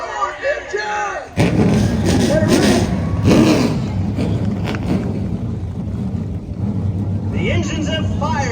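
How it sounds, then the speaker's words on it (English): Race car engines fire up together at Kern Raceway for the Sound Gear 400 weekend, a sudden loud roar that bursts in and holds steady as a dense rumble, with crowd noise and a voice over a public address beforehand. "The engines have fired here for the Sound Gear 400 weekend."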